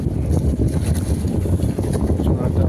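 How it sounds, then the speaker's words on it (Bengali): Several trawler boats pass by on a river, a steady low engine rumble and water wash, heavily buffeted by wind noise on the microphone. "এত ট্রলার যাচ্ছে দেখো অলরেডি"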